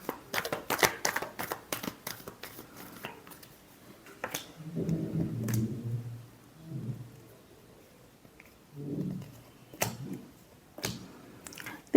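Tarot cards being shuffled by hand, a quick run of riffling snaps early on, then softer scattered shuffling and tapping with quiet pauses, close and fairly faint.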